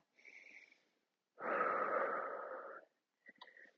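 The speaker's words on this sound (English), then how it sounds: "Nice deep breath." A deep breath during a Pilates reformer exercise: a short inhale, then a longer, louder exhale lasting over a second, followed by a brief faint breath, all close and quiet in a silent room.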